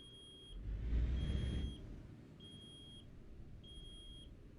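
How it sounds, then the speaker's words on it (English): Repeated warning beeps in Euro Truck Simulator 2, four evenly spaced high electronic tones sounding alone over a low engine hum, with a brief louder rumble in between. "I can't do anything till that beeping stops"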